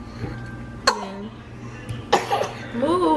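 Sharp coughs burst out in a home kitchen while chicken is being cooked, two distinct loud hacks about a second apart followed by a voiced, throaty tail.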